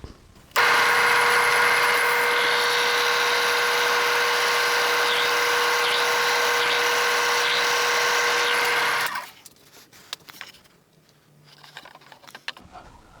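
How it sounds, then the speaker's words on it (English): A power drill runs steadily, boring a 1 inch hole about half an inch deep in wood, loud and continuous for roughly eight seconds before it stops abruptly, followed by light handling clatter. "we'll drill a 1 inch hole,"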